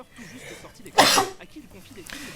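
A single sharp sneeze bursts out between stretches of quiet conversation, loud and close, with talking continuing around it.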